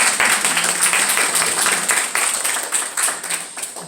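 Congregation at a Korean church service applauding to honor a chairman, a bright, crowded run of claps that holds strong, then thins and tapers near the end.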